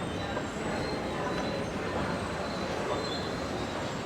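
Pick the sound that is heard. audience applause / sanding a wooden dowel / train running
train running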